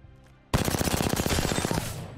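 Loud close burst of rapid automatic fire from the C.A.R. SMG, a heavy-ammo submachine gun in Apex Legends, rattling steadily for over a second after a quiet start, then ringing out.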